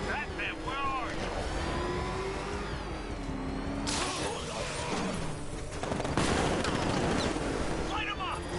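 Gunfire in a Batman video game during a Batmobile fight: loud, continuous bursts of automatic fire and impacts over revving vehicle engines, with a sharper, louder volley near the end and no clear speech.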